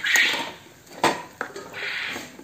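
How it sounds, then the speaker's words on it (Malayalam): Curd for ginger pachadi is mashed in a bowl, a spoon knocking and scraping against the bowl in a few distinct clinks with brief rubbing strokes between them. "തൈര് നന്നായിട്ടൊന്ന് ഉടച്ചെടുക്കണം."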